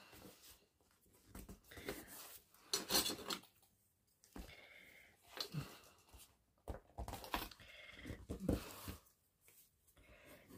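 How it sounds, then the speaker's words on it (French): Paper is pressed and rubbed with a bone folder while being held down by hand, making soft, irregular scraping strokes in short bursts with pauses. The sounds are quiet and close, with no talking. "j'appuie avec le plioir en maintenant avec ma main"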